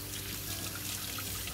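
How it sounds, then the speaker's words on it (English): Tap water runs in a steady, continuous stream over vegetables being rinsed in a kitchen while guacamole is prepared, a soft, even splashing hiss held at a moderate level throughout with no talking. "I'm going to wash these off"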